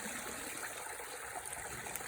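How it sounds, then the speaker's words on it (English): Water poured out of a Whirl-Pak sample bag, a soft, steady trickling splash heard faintly at low level without any talk. "so I'm going to dump it"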